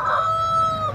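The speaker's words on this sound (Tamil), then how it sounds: "சேவல் எல்லா பக்கமே சேவல் கட்டி வச்சிருக்கிறாங்க." A rooster crows once, loud and close, in a long drawn-out call at the Moonampalli rooster market, where birds are tied up in rows for sale.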